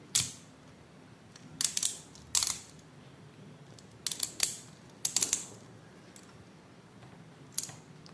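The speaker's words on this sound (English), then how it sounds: "The clicks are definitely loose for a Super King bay." A TakaraTomy Beyblade Hyperion Burn top gives short bursts of loose ratchet-like clicking, about seven separate clusters of sharp clicks spaced irregularly against a quiet background.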